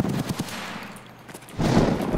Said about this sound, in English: That sounds like a P90.